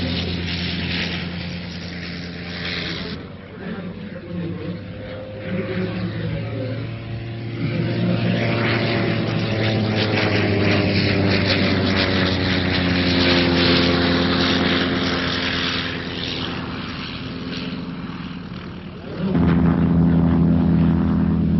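A vintage propeller airplane takes off, a Latécoère 17 mail plane from the 1930s. The engine gives a loud, steady droning roar that builds in strength as it climbs, heard alone with no voices.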